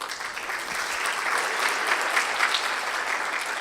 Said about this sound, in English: That was someone from Tamkeen who started that clap